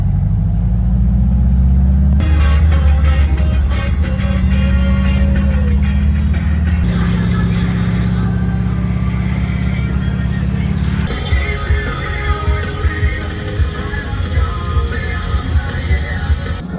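An overlanding vehicle creeps along slowly, its engine a steady low rumble close by, with a shift in tone midway and rattling, rough-road noise building toward the end.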